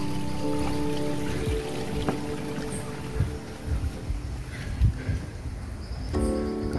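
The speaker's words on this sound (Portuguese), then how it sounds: "tem um riacho aqui descendo" Small stream trickling downhill beside a forest trail near Bonete, Ubatuba, a soft steady gurgle of water with scattered rustles and footsteps close by.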